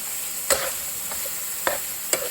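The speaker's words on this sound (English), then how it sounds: "I'm gonna throw in the meatballs too" Meatballs frying in a pan with rotini pasta, a constant bright sizzle punctuated by three quick scraping stirs, close up with nobody talking.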